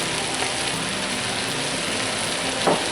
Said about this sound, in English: Let this fry a second. We'll add our bacon back in